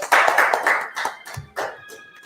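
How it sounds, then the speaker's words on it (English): A small group claps in scattered bursts, fading and picking up again, fairly close. "Let's clap it up."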